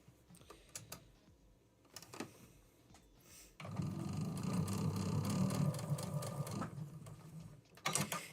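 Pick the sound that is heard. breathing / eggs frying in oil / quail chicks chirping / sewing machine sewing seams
sewing machine sewing seams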